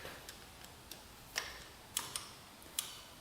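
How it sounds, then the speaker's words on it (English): Sparse, faint clicks at irregular intervals from a worn part with free play on a 1982 Honda 500, each tick sharp and brief against a quiet background, about eight over three seconds. "Okay, now you hear it clicking."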